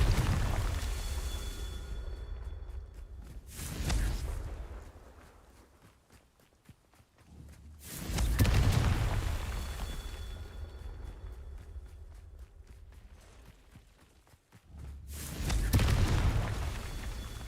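A Confringo spell is cast in the Hogwarts Legacy video game, heard as three separate booming bursts with a rumbling tail, spaced apart between quieter stretches of game sound.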